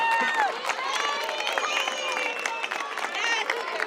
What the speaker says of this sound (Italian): Un applauso enorme ai primi classificati,